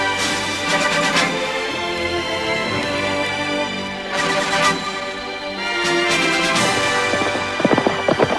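Horse hooves gallop at speed in a radio drama set among Tuban fighters, a dense layered effect with rapid rhythmic clatter, rumbling low background and sharper bursts near the end, no voices.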